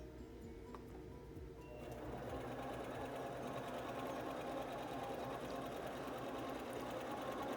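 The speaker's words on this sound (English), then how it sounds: "Intelliquilter is stitching a beautiful diagonal line, and it will stop in the corner." Intelliquilter computerized quilting machine stitching a diagonal line, a faint rapid mechanical whirring and rattle that starts quietly and swells after a couple of seconds into a continuous steady hum.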